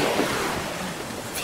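Ocean waves wash onto a seaside shore in a short, steady roar of surf, close and fairly loud, mixed with some wind rumble on the microphone.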